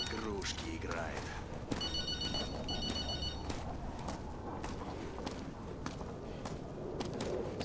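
A telephone rings in the video game Modern Warfare, several short repeated electronic trilling bursts amid gameplay noise, footsteps and mechanical clatter, with people talking over it.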